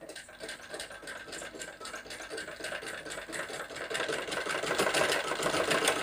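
A sewing machine stitches a strip on a blouse, a fast, even mechanical whirring and ticking close up that runs steadily and grows slightly louder toward the end.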